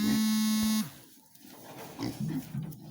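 A newborn piglet grunts and squeals softly in a few short bursts at close range, just after a loud electric buzz cuts off.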